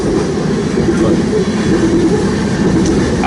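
A short freight train with a rear DPU locomotive rolls past near Fremont and Ashland, Nebraska, a steady loud rumble of wheels and cars filling the whole stretch without a break.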